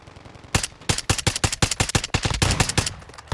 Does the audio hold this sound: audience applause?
no